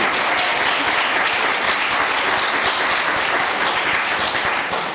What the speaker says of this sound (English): let's have applause for Aditi and Harrison, our future leaders.